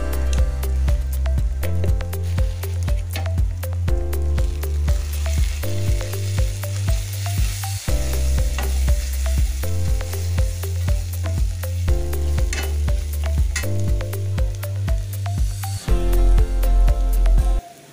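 Garlic kulambu spices, chilli powder and turmeric, frying and being stirred in a pan, a steady loud sizzle that keeps on without a break while the mixture is turned over.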